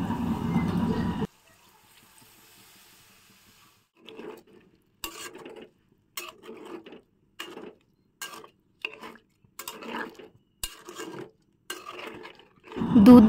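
Potatoes and pointed gourd with milk get stirred in a pan: a louder burst of cooking noise opens, then after a pause comes a run of short, separate scraping strokes at a steady pace, and a louder burst ends it.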